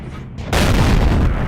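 Heavy tank cannon shot from a Russian SU-100Y tank destroyer in the World of Tanks video game: a single loud, close boom bursts out midway after quieter rumble and sustains a dense roar to the end, with no talk.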